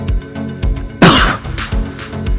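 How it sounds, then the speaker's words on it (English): A single sharp cough from a voice close by, with short deliberate throat-clearing sounds around it and no other talk. "Cough."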